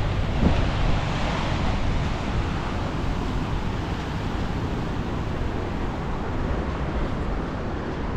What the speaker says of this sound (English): I really love the waves.